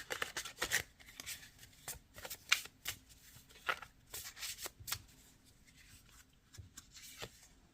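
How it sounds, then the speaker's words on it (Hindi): A deck of angel cards is shuffled and cards are drawn one by one, making a quiet, close series of crisp riffling flicks and papery slaps in irregular bursts, with no talking. "मैं एक से एक कार्ड निकालूंगी एंजल का"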